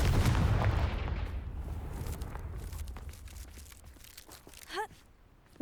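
Confringo fire spell blast in Hogwarts Legacy: a heavy explosive burst that rolls off into crackling debris and fading rumble, with a brief whooshing effect near the end.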